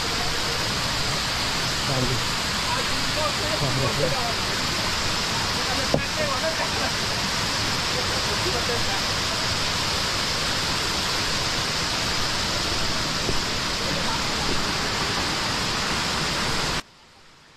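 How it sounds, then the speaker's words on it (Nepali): A small, clear mountain stream in the cardamom-growing hills of Namase, Bhotkhola, rushes steadily nearby: a dense, continuous wash of flowing water that holds even throughout, then cuts off abruptly near the end. "यहाँ हामीले सानो खोला भेट्यौँ।"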